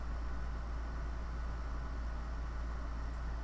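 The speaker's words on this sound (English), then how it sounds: "excuse the background noise from my AC unit" Air conditioning unit running in a hot room, a steady low hum with a constant broadband hiss, faint and unchanging throughout with no talking.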